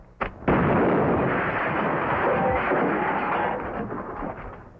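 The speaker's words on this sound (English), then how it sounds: "What's all the shooting for?" Gunfire from a hand-operated gun, pull it back and let it go, bursting in with a sharp crack and then sustaining a dense, loud roar of shots and rumble that fades slightly toward the end; no talk.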